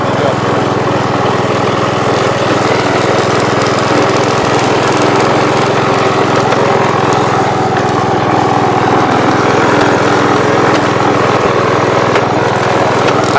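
A Gravely commercial mower engine runs at a steady, loud drone throughout, with constant mechanical hum and no pauses, close to the listener.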